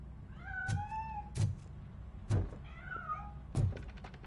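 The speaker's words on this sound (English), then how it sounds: "That cat must be hiding inside. Let me lure it out." A cat in the video game Robocop: Rogue City meows several times and bolts away. Two drawn-out, close meows come between sharp thuds and knocks, then a final thump.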